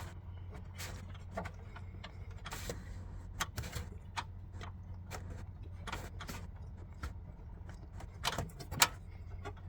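Priming button on the fuel filter housing of an Isuzu D-Max with a 4JJ1 diesel engine pressed repeatedly, giving a steady series of short clicking pumps over a low engine-bay hum, with no talk.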